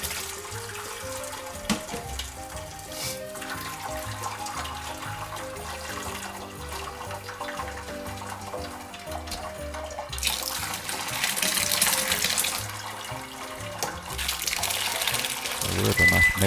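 Hot whey from ricotta pouring and splashing as the curds drain, a continuous close rush of liquid that grows louder and fuller toward the end, with a voice heard briefly.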